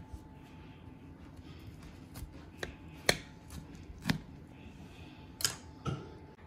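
A knife cutting through a freshly baked chicken pot pie, with irregular sharp crunching and tapping strikes against the crust and dish over a quiet background.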